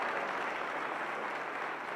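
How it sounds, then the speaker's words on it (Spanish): Falleros applauding at the naming ceremony of the Fallas queens in Valencia, a dense, steady wash of clapping from a large crowd that fills the whole moment at moderate level. "Ves a tu gesto a tu gesto, Sandra, cómo aplauden todos los falleros."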